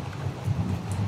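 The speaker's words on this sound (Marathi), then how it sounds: "छान एकदम गडगडत आहे इकडे" Rain falling at a village house in wet monsoon weather with a low rumble of rolling thunder underneath, a steady hiss with a deep drawn-out growl, fairly faint.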